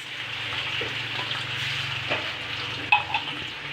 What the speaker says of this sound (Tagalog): haluin natin. Durugin natin ang sardines